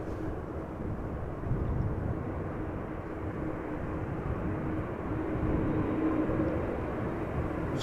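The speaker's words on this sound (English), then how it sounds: "So the Delta has landed" A Delta airliner lands at Amsterdam Schiphol Airport, its engines a distant, steady low rumble that swells slightly toward the end, with no voices over it.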